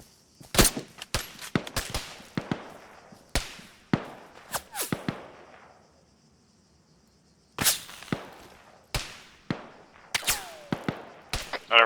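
Sharp gunshots crack in irregular clusters, single shots and quick doubles ringing out with short echoing tails, loud and close, pausing briefly midway before resuming, no talking.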